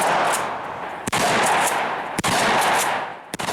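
Sustained automatic weapon fire roars loud and close for several seconds, with brief pauses between bursts and brass casings ejecting from the weapon.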